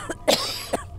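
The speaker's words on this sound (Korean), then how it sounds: "그러니까 벌써부터 기침 계속 나오니까 막 기침해." A young woman coughs twice in quick succession, close to the microphone, with short, sharp bursts and a faint breath between them in a quiet, dim room.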